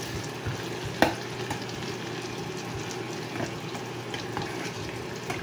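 Onions sauté in a pan for ginisang monggo, a steady close sizzle and crackle of frying with a brief utensil clink and occasional stirring.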